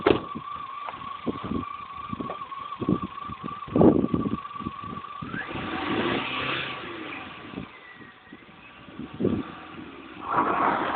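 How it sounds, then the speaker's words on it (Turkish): A car engine runs and revs on a mountain road on Spil Dağı, close and fairly loud, rising and falling in uneven surges and bursts over the whole stretch. "Şimdi sen o arabayı çalıştırdın ne, ne olduğunu zannediyorsun?"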